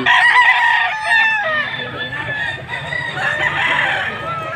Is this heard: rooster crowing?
yes